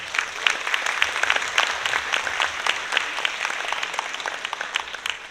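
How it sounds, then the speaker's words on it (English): Sustained applause from an audience at an end-of-year dance celebration for students in a classroom dance program, dense and steady clapping lasting several seconds without pause. "please give yourselves a round of applause"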